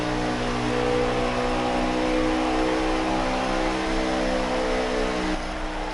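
A race car at Indy rolling down pit road, its engine holding a steady harmonic drone at moderate revs, fairly close and continuous throughout.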